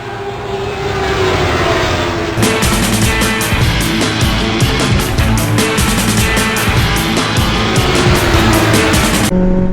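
A new motorbike being ridden, its engine roaring loud and close under heavy wind rush, with a rapid pulsing drone through most of the ride and no speech.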